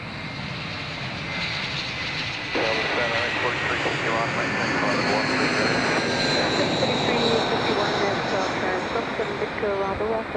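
A Jetstar airliner lands on runway 23 at Adelaide Airport, a steady broadband engine roar that grows louder partway through, heard under voices talking.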